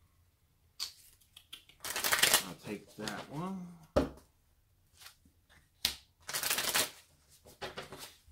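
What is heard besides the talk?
shuffling cards during a board game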